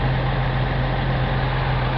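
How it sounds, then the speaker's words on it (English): A 1975 Datsun 280Z engine idles at slightly lowered revs with a steady, dense rumble and a constant low hum, loud and unchanging throughout. "engine idling a little bit lower"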